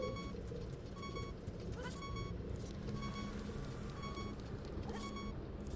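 Low-health warning beeps from Zelda: Ocarina of Time repeat at a steady, roughly one-per-second rhythm, moderately loud over a constant wash of game background noise.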